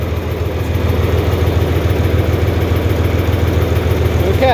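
A tractor engine running on liquid propane idles with a steady low chugging rhythm, close and fairly loud, continuing evenly throughout.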